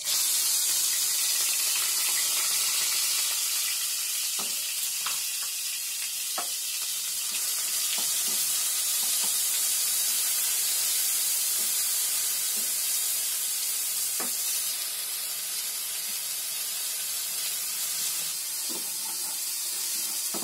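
Onion paste fries in oil with cumin in a pan on a gas stove, giving a loud, continuous close sizzle with occasional faint clinks.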